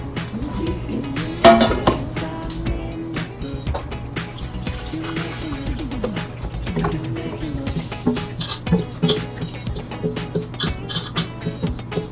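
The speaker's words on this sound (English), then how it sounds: "now I'm going to transfer everything to the grease pan" Cornmeal pudding batter for a Jamaican pudding is poured and scraped from a bowl into a greased pan, with steady clinks of utensil and pot and a wet, liquid sloshing running throughout.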